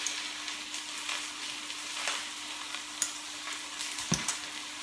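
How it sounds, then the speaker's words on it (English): Lemon chicken pieces are stirred with sweetener in a hot pan, a soft continuous sizzle of frying with occasional scraping and clinks of the utensil against the pan, fairly quiet and close. "Give that another stir."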